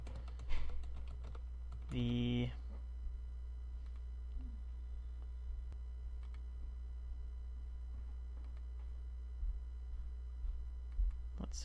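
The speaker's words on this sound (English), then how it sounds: "Whenever I want to say something, I end up typing it" Scattered computer keyboard keystrokes, a handful of soft clicks spread unevenly across the stretch, faint beneath a steady low hum and a short harmonic tone.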